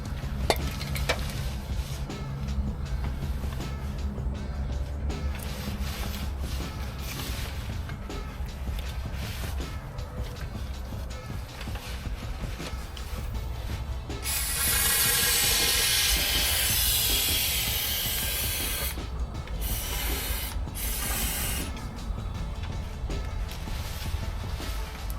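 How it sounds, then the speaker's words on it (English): Bilt Hamber Dynax S50 cavity wax sprayed into the cavities of a Ford Transit van, a loud steady hiss of several seconds rising midway above the ongoing background noise. "putting this S50 cavity wax in."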